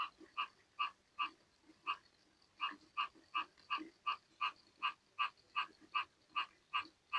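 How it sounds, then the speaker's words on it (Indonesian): Frogs croak at a fish pond where gourami larvae are raised, giving about twenty sharp, evenly spaced croaks in a steady rhythm, fairly faint and with no talk. "Itu suara-suara katak."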